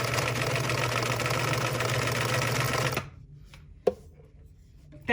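A sewing machine stitches a patchwork quarter-inch seam with a steady, close, fast mechanical whir for about three seconds, then stops, leaving near silence broken by a couple of small clicks and a thump.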